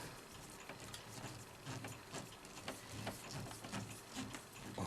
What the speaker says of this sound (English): undo that screw there